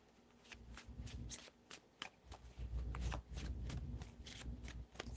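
A deck of tarot cards is shuffled by hand in rapid riffling bursts, quiet and close, with soft crisp flicks repeating for several seconds and no talking.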